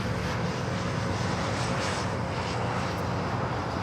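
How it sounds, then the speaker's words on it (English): An Air Tahiti Nui Dreamliner in from Paris taxis toward the gates at Los Angeles LAX, its engines giving a steady, even roar that holds at the same level throughout, with no voices over it. "That was at Air Tahiti Nui Dreamliner coming up from Paris, heading into the gates."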